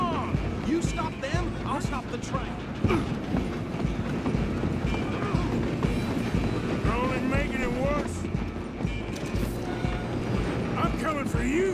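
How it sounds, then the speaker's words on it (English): Train rumbling along the tracks in the video game Red Dead Redemption 2, a steady loud clatter of wheels mixed with horse hooves, under voices talking throughout. "I'm gonna ride ahead and stop the train"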